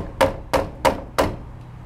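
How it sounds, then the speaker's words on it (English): Four sharp taps of a small hammer or mallet, evenly spaced about a third of a second apart, close and distinct, with no talking while fitting a part during a bicycle restoration. "Tap him in with your little hammer."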